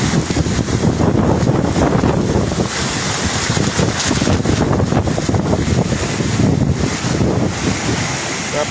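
A strong storm roars with heavy wind and rain, a dense, continuous rush of buffeting gusts and pounding water beating on the microphone without letup.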